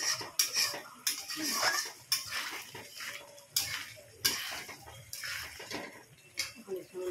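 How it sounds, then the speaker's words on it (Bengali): Metal spoon scraping and clinking against a pan while egg curry is stirred and sautéed with a little water, sharp irregular clatters over a soft wet bubbling background, close and moderately loud. "জল দিয়ে একটু কষিয়ে নিলাম"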